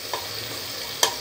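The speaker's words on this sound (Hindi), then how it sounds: "अब ये थोड़ा इसको चलाएंगे" Mutton latpat masala sizzles steadily in a pan while a spoon stirs it, with two brief scraping strokes rising above the constant frying hiss.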